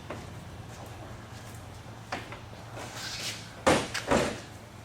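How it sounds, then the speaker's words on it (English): A heavy postal delivery vehicle door scrapes and thumps as it slides and drops free of its rail, a couple of sharp knocks near the end over low room hum. "At this point you just have to slide the door back"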